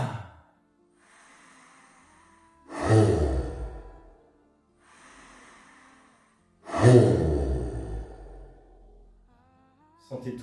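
Slow, deep breaths during a guided breathing exercise: two long audible exhales, each followed by a quieter pause, close and calm, with no speech.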